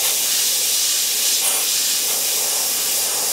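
Steady, continuous hiss of an airbrush spraying paint through a template, running without a break, close and fairly loud, with no voices.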